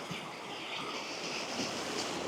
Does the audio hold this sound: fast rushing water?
yes